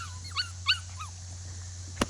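A Schnoodle puppy gives a few soft, high whimpers and yips over a low steady hum, followed by a single sharp click.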